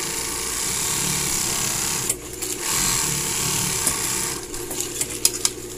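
A sewing machine stitches a plastic-bag sleeve for homemade PPE, its steady close mechanical whir running throughout with brief pauses and small clicks as the fabric is repositioned.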